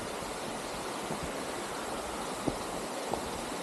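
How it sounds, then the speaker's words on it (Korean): A waterfall on a Chiaksan mountain trail gives a broad, even rushing hiss that holds steady throughout at moderate level, with a couple of faint clicks and no voices. "폭포 소리가 들리죠. 바로 저겁니다."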